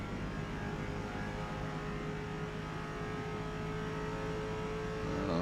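A Lexus RC F race car is driven around Daytona in the Forza Motorsport game, its engine a continuous loud, steady drone at high speed with a slight swell toward the end.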